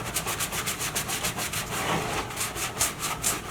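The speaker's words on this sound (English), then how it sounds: "Scrub it pretty good." A plastic part is scrubbed with a waterborne cleaner in quick, regular back-and-forth rubbing strokes, about three per second, close and moderately loud with no voices.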